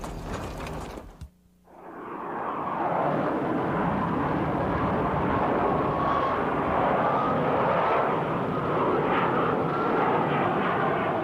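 F-14 fighter jet engines roaring in a steady, loud, broad rush that builds after a short cut and then holds at full strength, close and continuous with no voices.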